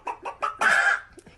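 A voice imitates a chicken with three short clucks followed by a longer squawking cluck, then a couple of soft trailing notes. The sound is close and clear.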